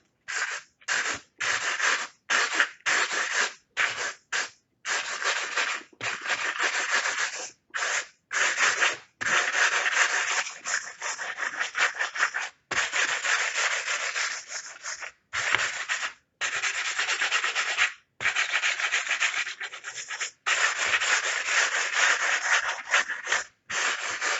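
Frets on a 1988 Washburn Force ABT B-20 bass are polished by hand, a close, steady rubbing and sanding hiss in long back-and-forth strokes broken by short pauses.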